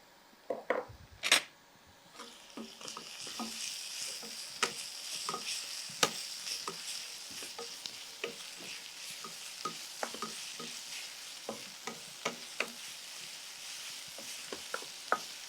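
Colourful vegetables and yellow capsicum are stir-fried in a pan, with a constant soft sizzle and frequent close scrapes and taps of a spatula against the metal, beginning with a few louder knocks.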